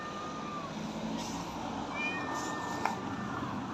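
Stray cats meow outdoors at a taxi stand in Antakya, Hatay, after the earthquake, a few short cries heard faintly over steady traffic and street rumble.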